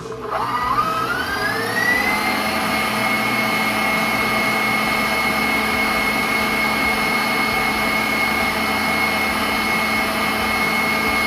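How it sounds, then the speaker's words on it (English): Electric mixer beating sugar-free cheesecake batter of cream cheese, egg yolks and sugar, a loud, steady motor whine that winds up in pitch over the first two seconds, then holds. "Scrape your scraper off on the mixer, and then go at her again."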